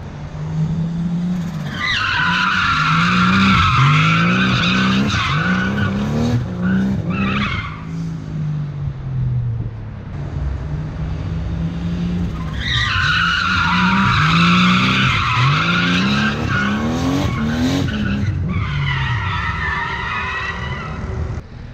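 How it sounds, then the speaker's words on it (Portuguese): A Nissan Skyline with an RB25 engine roars through rising and falling revs in repeated bursts, with tire squeal and skidding layered over the loud, close engine note. "O ronco desse motor é muito lindo, é RB25."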